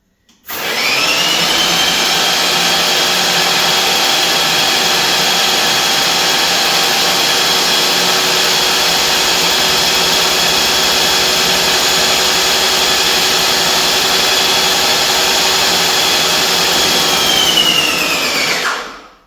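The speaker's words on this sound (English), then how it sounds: "You see the sprayer spraying it out" An airless paint sprayer gives a loud, constant hissing spray without pause for nearly twenty seconds, starting and stopping abruptly, with a steady mechanical whine underneath.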